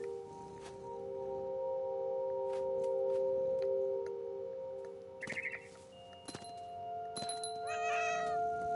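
A cat meows a few times over a steady tonal background hum; brief, fairly clear cries come near the end, with a soft thunk just before.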